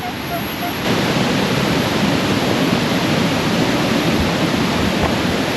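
A steady, heavy roar of falling water from Tat Kuang Si waterfall near Luang Prabang, Laos, fills the scene, loud and continuous with no breaks, rising slightly after the first second.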